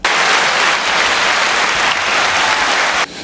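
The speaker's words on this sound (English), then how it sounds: "Hey, can I get a round of applause?" A round of applause from a podcast audience: dense, steady clapping fills the space loudly and evenly, then cuts off sharply near the end.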